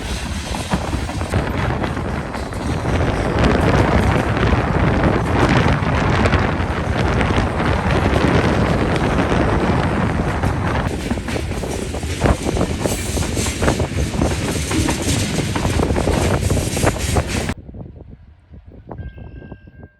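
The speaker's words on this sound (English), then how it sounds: "As you could tell from the sound of the wind, it was a pretty windy day" Strong wind buffets the microphone with loud, constant rumbling roar for most of the stretch, then cuts off abruptly near the end, leaving quiet.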